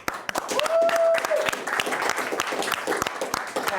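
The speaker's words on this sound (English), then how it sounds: "can we get a round of applause for Olivia?" An audience at the HSN Hall of Fame claps for Olivia, a lively burst of individual hand claps close by, with a brief whistle early on and some voices mixed in.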